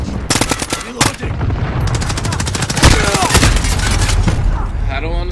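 Rapid gunfire bursts from a first-person shooter video game, loud and dense throughout, with repeated automatic volleys and a few heavier booms layered over game noise.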